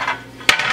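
A chopping board is set down on a kitchen counter while catching, cleaning and cooking nutria, giving one sharp knock about halfway through, followed by a few lighter clatters, with no one talking.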